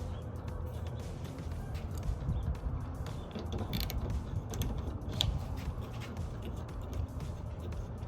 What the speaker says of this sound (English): Just take this clip off, undo this nut on both sides.